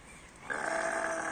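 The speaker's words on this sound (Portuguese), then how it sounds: "só para mostrar para vocês as ovelhas aqui da propriedade onde eu trabalho aqui" A sheep on a farm lets out a single close, drawn-out bleat after a quiet moment, as the flock comes in to be fed.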